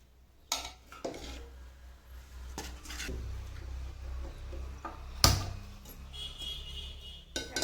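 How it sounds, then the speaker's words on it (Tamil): Clinks and scrapes of utensils against dishes as a heated flour laddu mixture is put onto a plate, a few sharp metallic knocks over a low steady hum nearby. "இதை வந்து இப்போ ஒரு தட்டில் போட்டுக்கிறோம்"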